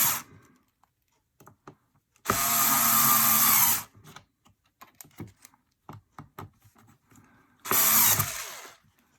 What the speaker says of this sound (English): let's lock down the skid plate with the screws again